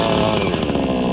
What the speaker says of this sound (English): It is a chainsaw.